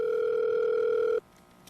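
A steady telephone tone hums for about a second as a call connects on a Korean radio counselling program, then cuts off abruptly to a quiet line.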